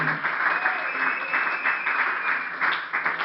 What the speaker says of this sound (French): Que Dieu bénisse celui qui applaudit.